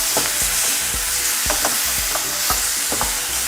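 Prawns mixed with okra being stirred in a frying pan, loud continuous sizzle broken by regular scraping knocks of the spoon against the pan, close by with no talk.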